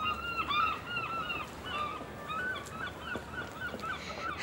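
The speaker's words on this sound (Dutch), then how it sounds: "Wacht, daar zie ik een paar meeuwen." Seagulls calling near a garbage truck, a series of nasal honking cries repeating over several seconds against a steady outdoor background, moderately distant and without talk.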